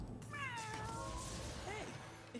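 A rescued cat meows softly a couple of times, faint and close, over a low background hum during a card-game session.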